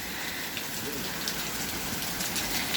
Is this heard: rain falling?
yes